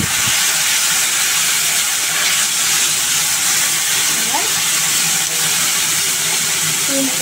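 Water hitting a hot pan of bitter gourd curry sizzles and hisses loudly and steadily, a dense continuous spatter that holds for about seven seconds.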